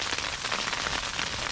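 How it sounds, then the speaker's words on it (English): Sleet mixed with rain falls on a tent during a snowstorm camp, a close, steady, even patter without gaps or voices. "it kind of mixing over to sleet and rain"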